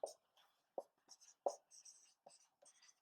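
Marker or chalk writing on a board during a chemistry lesson on reaction rates: short scratchy strokes and taps in an irregular rhythm, close and fairly quiet, with no voice.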